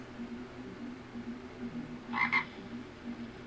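Frogs croak in a low, steady chorus, with one brief higher double croak standing out near the end. The calls are faint and distant, and no one speaks.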